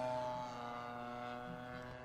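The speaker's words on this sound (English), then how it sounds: "if I leave that DLE-40 wide open, straight and level, the Valiant moves right along" A Hangar 9 Valiant RC airplane powered by a DLE-40 gas engine flies at wide-open throttle, straight and level, giving a steady, sustained buzzing drone that holds at moderate distance and stays fairly quiet throughout.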